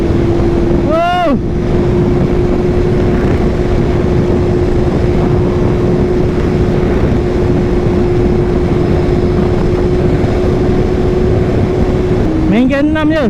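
A Kawasaki ZX2R motorcycle ridden at speed in sixth gear gives a loud, constant engine drone mixed with heavy wind roar, with brief rising revs at the start and end.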